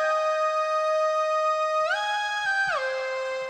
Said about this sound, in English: I actually found this lead in the Shockwave plugin